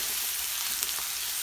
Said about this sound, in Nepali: अब यो प्याजहरू अलिक खरिनु दिनुपर्छ, अलिक फ्राई हुनु दिनुपर्छ प्याजहरूलाई पनि